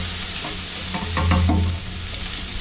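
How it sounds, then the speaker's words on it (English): Chopped onions saute in a pan, a loud close even sizzle that swells briefly midway with light stirring. "So our onions are starting to saute up a little bit"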